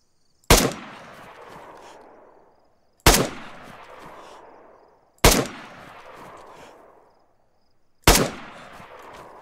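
Four loud, sharp gunshots in the video game DayZ, spaced about two to three seconds apart, each cracking sharply and trailing off in a long reverberant decay.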